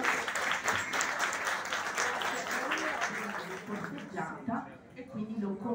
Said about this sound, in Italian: Un applauso a Rosanna Capolla.